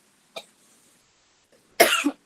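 Two coughs: a short, sharp one near the start, then after a quiet pause a louder, harsher double cough, close to the listener.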